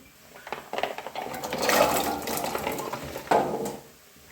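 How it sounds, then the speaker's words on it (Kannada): Water poured into a pot of cut wild grapes before boiling, a gushing splash that builds and swells for a few seconds, with a brief second surge before tapering off, close and alone. "ಈ ರೀತಿ ನೀರು ಹಾಕಿ ಒಂದು ಕುದಿ ಬರುವಲ್ಲವರೆಗೆ ಇದು ಬೇಯಬೇಕು"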